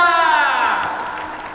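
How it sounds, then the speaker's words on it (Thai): Crowd noise at a fan meet event, a broad rush of applause and cheering with shouts on top, loud at first and gradually thinning out over a second and a half. "ขอเสียงปรบมือจ้า"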